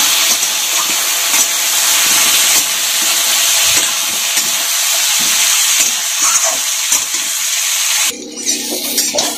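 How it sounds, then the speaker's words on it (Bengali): Eggplant pieces fry in hot oil with turmeric, giving a loud, steady sizzling hiss close by, with faint stirring bumps near the end as the frying settles. "হলুদ দিয়ে এটাকে একটু ভেজে নেব।"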